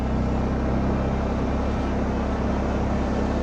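A waterfall's rushing water roars in a dense, constant broadband wash, steady and loud, with no voices.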